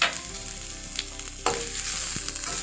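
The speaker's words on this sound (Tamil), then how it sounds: "நல்லா வதக்கிக்கிடலாம்." Thinly sliced onion sautéing in a pan for Hakka-style egg noodles, a continuous close sizzle broken by a few sharp stirring scrapes, no talking.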